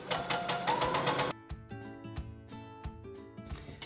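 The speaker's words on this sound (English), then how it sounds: "I think I am gonna go ahead and backstitch here at the beginning and go all the way around to the end" A sewing machine backstitches plush bunny fabric. A short burst of broadband noise leads into a steady, quiet motor hum with evenly spaced stitching pulses.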